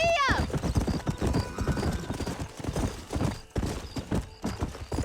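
Horse hooves clip-clop at a gallop in the Red Dead Redemption video game, set in New Austin, with a neigh at the start, steady rapid beats and people talking over them.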